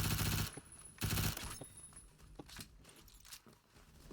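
A Roblox Phantom Forces gun fires two loud rapid bursts close by, followed by quieter scattered shots and clicks with no talking.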